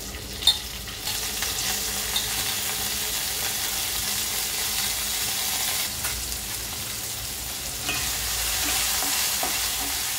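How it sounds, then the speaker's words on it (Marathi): Diced potato and cumin seeds frying in hot ghee in a pan for sabudana khichdi, a steady close sizzle with a sharp clink of the spoon early on and stirring scrapes throughout, no talking. "आपल्या इकडे तूप तापलेलं आहे, त्याच्यामध्ये आपण घालूया जिरं"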